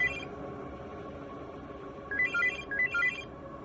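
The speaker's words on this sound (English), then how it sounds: "the phone started ringing." Telephone ringing in a house at night, a few short electronic ring bursts rising out of a faint background hum near the end.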